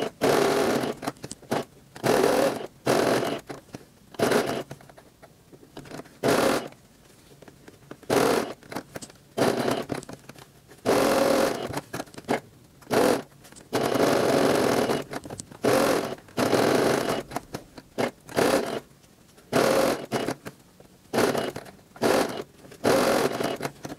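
Domestic sewing machine stitching a children's 3D fabric face mask, repeated bursts of steady whirring stitching broken by short pauses, close and loud with no talk.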